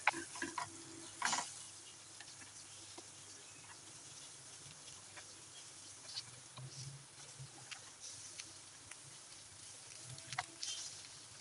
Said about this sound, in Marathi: दोन्ही बाजूने ब्राऊन होईस्तव 15 ते 20 मिनिटं मीडियम टू लो फ्लेमवरती फ्राय करून घ्यायचं आहे